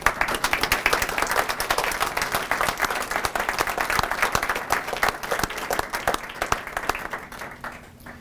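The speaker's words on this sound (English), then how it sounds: "Can we give our new hires and our newly promoted a round of applause?" Applause for new hires and newly promoted members at a Mentor Fire Department swearing-in ceremony, with a sustained round of clapping from an indoor crowd that tapers off near the end.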